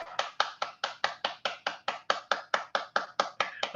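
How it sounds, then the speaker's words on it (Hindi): Steady, evenly spaced hand claps from a group, about four per second, crisp and fairly close, keeping a regular rhythm throughout with no talking. "दो हाथ से बजाओ ताली"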